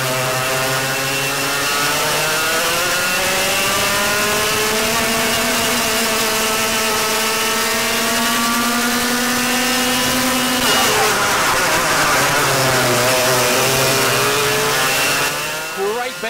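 A Yamaha Light 100cc racing kart engine at Hawke's Bay Kart Club, heard onboard through a lap: a loud, continuous high-pitched buzz whose pitch climbs and falls with acceleration and braking through the corners.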